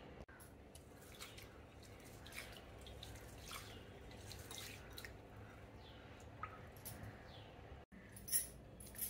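Rice being rinsed in water while soaking for capsicum rice, giving soft continuous sloshing and dripping with small squishy splashes, quiet and close, with a few louder drips near the end and no talking.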